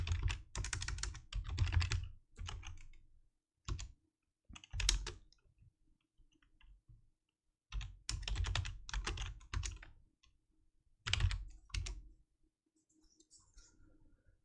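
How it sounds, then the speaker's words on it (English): Bursts of close, crisp keystrokes on a computer keyboard typing into a Commodore 64 emulator, coming in quick clusters separated by quiet pauses. "So you can kind of type stuff in real time here."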